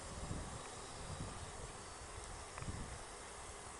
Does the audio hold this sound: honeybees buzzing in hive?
yes